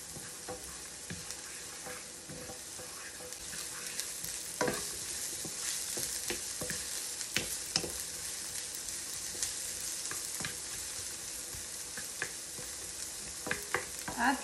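Onions and fresh garlic sizzle steadily in a hot frying pan with pork chop, a dense crackling hiss broken by scattered sharp pops and occasional stirring scrapes, close and continuous with no talking.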